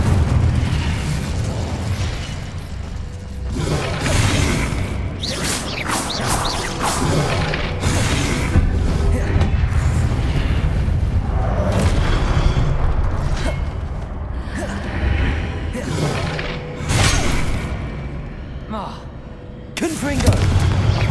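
Incendio fire spell cast repeatedly in Hogwarts Legacy, with loud whooshing bursts and roaring flame blasts recurring every few seconds, mixed with game effects and a voice speaking over the action.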